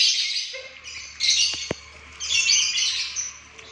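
Bird gives a chirping, squawking call in two bursts, fairly close and clear, with a couple of sharp clicks between them and no talking.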